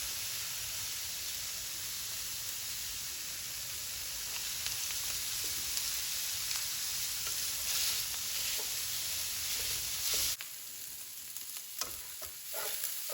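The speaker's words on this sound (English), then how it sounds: "I'm just gonna work on this for a few minutes, breaking up these big chunks of sausage" Italian sausage sizzles in a pan as big chunks are broken up, a steady close hiss with scraping stirs that quiets abruptly near the end, leaving faint crackles and a few knocks.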